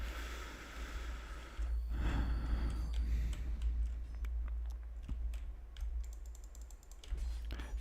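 Computer keyboard keys clicking during a Dark Souls game session, a scatter of short sharp taps over a steady low background hum, some in quick bursts and others isolated.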